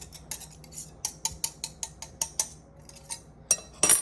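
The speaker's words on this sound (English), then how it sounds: "Now it's getting a little easier to stir now that it's all getting mixed up." A utensil clinks and taps against a bowl while cornbread cake batter is stirred, giving a series of sharp, close metallic ticks in an uneven rhythm, with a couple of louder knocks at the end and no speech.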